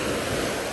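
Sea waves wash at Golden Sands beach in a brief, steady roar of surf that is fairly loud and close, with wind noise mixed in and no voices.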